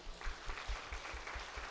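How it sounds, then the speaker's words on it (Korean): Congregation at a Sunday morning church service applauding the children, a soft, dense patter of many hands clapping at a steady moderate level, fairly distant and even throughout, with no voices over it. "우리 아름다운 아이들 박수 한번 하겠습니다."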